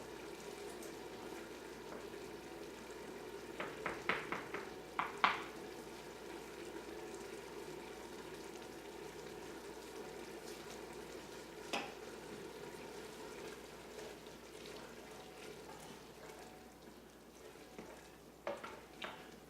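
Flour roux being stirred in a soup pot sizzles softly and steadily, with faint scraping and clinking of the spoon against the pot at scattered moments, quiet throughout.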